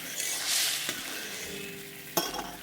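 Salmon sizzles steadily in a hot pan, a soft hiss heard up close with light scraping and a sharp clink of utensil against pan near the end.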